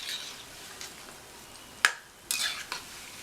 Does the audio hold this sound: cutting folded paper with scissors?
no